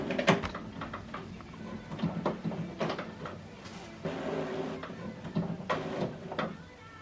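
An HP ENVY Inspire 7224e printer getting ready after a cartridge replacement: whirring, sliding and clicking mechanical movements that come in repeated bursts, close and moderately loud, with no talking.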